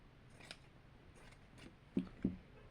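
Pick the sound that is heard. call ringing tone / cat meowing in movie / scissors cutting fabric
scissors cutting fabric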